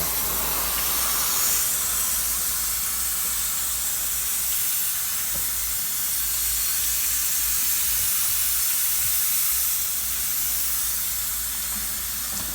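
Water gushing under pressure from an irrigation pipe at a Korean shiitake mushroom farm, a constant loud hissing spray that holds unbroken throughout.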